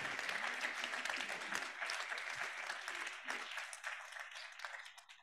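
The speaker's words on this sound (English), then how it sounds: "Big round of applause to Philippe Gaville." Conference audience at the DigiHealthDay 2023 closing ceremony applauds Philippe Gaville, a thick burst of clapping that thins out and fades toward the end.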